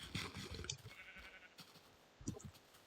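Sheep in a video game let out a few short bleats, one clearly around the start and another louder one later, heard close by over a faint background with no talking.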